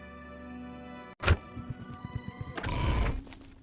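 Horse in the video game Oblivion: a sharp thunk, then a loud whinny, followed by a quick run of hoof clops that thickens into a louder rumble of hooves near the end.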